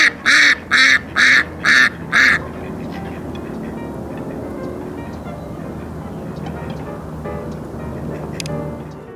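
Five loud, evenly spaced duck quacks open the clip, followed by soft background music with no further calls.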